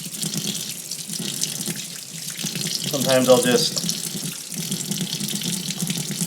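Tap water runs steadily into a sink while a fountain pen is rinsed, with a brief louder splashing burst midway as the stream hits the pen; a person talks quietly over the flow.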